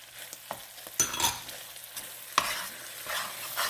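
A spoon stirs flour and garlic in a hot pan for a shepherd's pie. A few distinct scraping strokes sound against a soft sizzle, close up and fairly quiet, with no talking.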